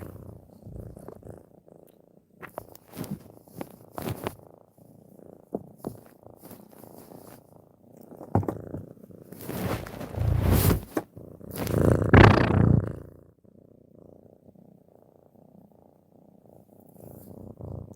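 A cat purrs close to the microphone in a soft, continuous rumble, with louder rustling and breathy bursts midway before it settles back to a quiet purr.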